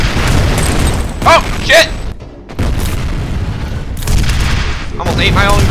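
A video game grenade explosion goes off close and loud, a heavy boom amid dense broadband combat noise with brief pops, while a man exclaims in surprise.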